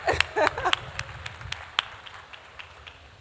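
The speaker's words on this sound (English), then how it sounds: "Can we get a round of applause for the 5 of them?" An audience at a food festival gives a short burst of scattered, fairly faint clapping for five co-chefs, a handful of sharp claps that quickly thin out.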